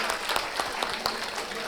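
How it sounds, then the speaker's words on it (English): A short burst of lively audience applause at a talk session, continuous clapping with a few sharper claps standing out. "give her a big round of applause"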